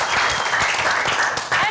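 A studio audience claps steadily at the close of a panel quiz show, dense and loud throughout with a brief dip near the end.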